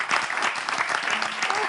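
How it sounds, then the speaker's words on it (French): A live audience bursts into brisk, dense applause at a French-language broadcast event, a short, full-bodied round of clapping with a faint voice mixed in. "Applaudissez pour vous."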